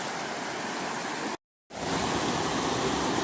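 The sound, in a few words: river rapids rushing over a rock shelf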